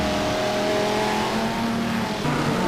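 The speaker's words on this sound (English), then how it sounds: "Good old drag race between the E-Type Jag of Adam Banfield and the Mustang of Steve Lewis" An E-Type Jaguar and a Mustang race side by side in a historic car drag race, engines roaring loud and steady with revving tones throughout.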